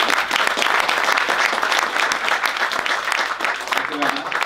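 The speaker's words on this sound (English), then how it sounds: "A big applause for Florian, please." An audience at a Silicon Valley startup talk breaks into loud, dense applause that holds steady for several seconds.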